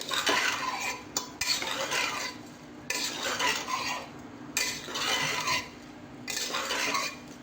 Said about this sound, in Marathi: ह्यात जे आहेत धुतलेले तांदूळ टाकते, ते काही भिजत घातले नव्हते मी, तसेच आहेत। छान परतून घेऊया।